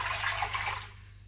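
Cold filtered water is poured into a bowl to make brine for baked aubergine, a short splashing rush that fades out after about a second.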